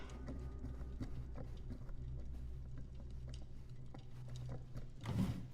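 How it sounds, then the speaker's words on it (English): Video game machinery resembling the inner workings of a washing machine ticks, clicks and ratchets at a steady rhythm. It stays quiet and close throughout and ends in a brief louder clunk. "Looks like the internal workings of a washing machine."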